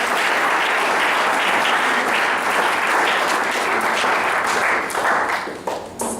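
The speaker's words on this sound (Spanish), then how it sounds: "Denle un aplauso al Señor." Sustained applause from a church congregation fills the space loud and steady for about six seconds, tapering slightly near the end.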